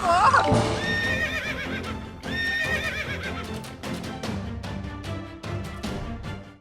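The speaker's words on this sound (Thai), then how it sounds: "ไปขี่ม้าต้องไปควบแรงๆ เลยไป" A horse in a video game neighs loudly at the start, then gallops in steady clip-clop rhythm while a high whinny repeats and a voice talks over the hoofbeats.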